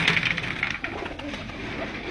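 Ata Mohammad's flying pigeons, bred from Ustad Akmal Khan's birds, coo and flutter close by, a steady stream of soft calls and wing noise over a busy outdoor background.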